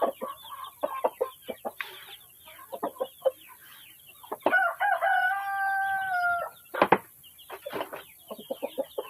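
Free-roaming white chickens, hatched in a home incubator, cluck in short repeated bursts around a rooster crowing one long, loud call near the middle, with no talk.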